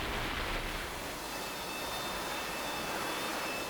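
A jet aircraft engine runs in the DCS World flight simulator, a loud, steady, broadband roar with a high whine layered over it, continuous and close throughout with no talking.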